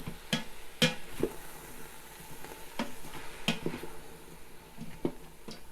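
Garlic and vegetables sautéing and being stirred in a pot for black-eyed pea soup, a steady soft sizzle broken by sharp spoon scrapes and clacks against the pot, close by with no talking.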